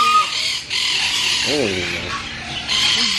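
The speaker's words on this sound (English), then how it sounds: "His birds are loud." Loud birds, likely parrots, squawk and screech in a pet store, a harsh bright din that fills the whole moment, with someone talking under the noise.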